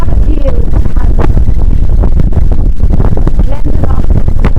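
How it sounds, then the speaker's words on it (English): Strong wind gusting above Glendalough Lake in Ireland, loud buffeting rumble battering the microphone throughout. "Very windy"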